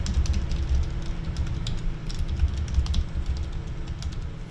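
Someone typing a username and password on a computer keyboard, with quick light key clicks over a steady low hum, close and fairly continuous, no speech.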